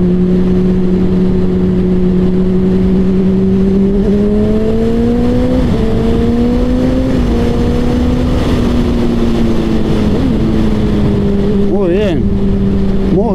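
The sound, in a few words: sport motorcycle engine revving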